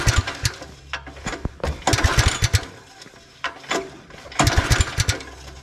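A small engine on a cheap, long-unused go-kart cranks in loud repeated bursts of rapid pulling chugs, pausing between attempts, then briefly sputters as it nearly fires.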